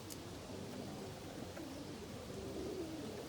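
Young pigeons, including opal and frost stencil birds, cooing in a loft: a soft, low, steady murmur of coos with no talking.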